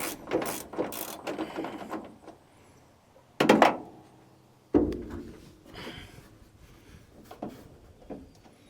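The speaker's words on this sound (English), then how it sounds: "I see the ratcheting wrench doesn't fit on." Ratcheting wrench working on a Dodge windshield wiper motor, with bursts of rapid clicking pawl ratchets and a couple of sharper metallic clunks, close up, separated by quieter pauses.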